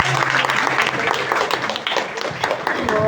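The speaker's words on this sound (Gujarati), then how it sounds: "એકવાર તાળી પાડો જોથી આ કાર્યક્રમ શરૂ." A gathering at the start of a programme erupts in audience applause, dense overlapping clapping that fills the space for the whole stretch, with voices mixed in.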